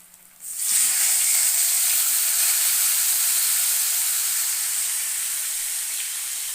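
A fish dropped into hot oil for a fish curry with eggplant sets off a sudden loud sizzle that settles into a steady, close frying hiss and continues unbroken to the end.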